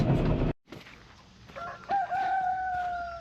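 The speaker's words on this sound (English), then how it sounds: "Well, the rooster explains it all." A rooster crows on a rainy-night-after Sunday morning outdoors, one long clear cock-a-doodle-doo rising then holding, moderately near, after a brief clatter and a moment of quiet.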